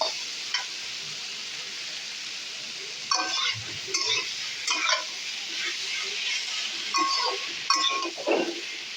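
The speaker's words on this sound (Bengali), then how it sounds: "পেঁয়াজটা ভাজা ভাজা হলে আমি আলু আর কোয়ারটা যে সেদ্ধ করে রেখেছিলাম সেটাকে আমি দিয়ে দিলাম" Boiled potatoes being stirred into fried onions in a pan: a quiet sizzle under scattered scraping strokes and a few light clinks of a spatula against the pan.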